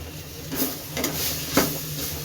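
Brinjal and potato pieces being stirred in a frying pan while cooking a chenna masala curry: a steady sizzle with three soft scraping strokes of a spoon against the pan, close and clear, with no talk.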